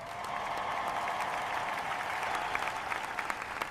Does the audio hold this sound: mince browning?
no